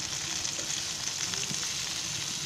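Tuna fish pieces fry in a pan of hot oil, giving a soft, even sizzle with faint crackles and occasional light stirring, heard alone without voices.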